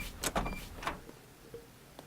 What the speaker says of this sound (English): That was a very generic door opening sound.